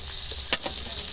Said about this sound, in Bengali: প্রথমে মাছের তেলটা ভেজে নেব